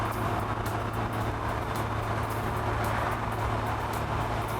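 A 1961 Alfa Romeo 2000 Spider by Touring is driven, its engine and road noise forming a steady, loud, broadband drone with constant wind rush and no talking.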